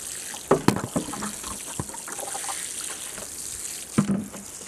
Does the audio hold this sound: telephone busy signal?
no